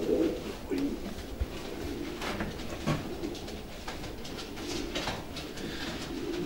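Racing pigeons cooing softly in a loft, repeated low throaty coos over a constant background hum, with a few faint bird calls and light movement sounds.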